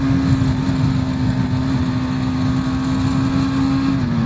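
A BMW G310R motorcycle cruising in sixth gear at highway speed, its single-cylinder engine held at a steady high drone near 5000 rpm under loud wind rush, with a slight pitch dip at the end.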